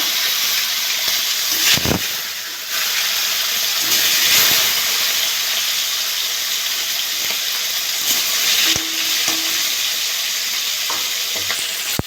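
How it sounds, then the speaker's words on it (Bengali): Pangas fish frying in hot oil, a loud, dense, continuous sizzle and hiss with brief breaks where pieces are moved or lifted out, with no talk. "সব মাছগুলো ভালো হয়ে গেছে, আমি এটা তুলে নেব। সব মাছগুলো তুলে নিয়েছি, ওগুলো ভেজে নেব।"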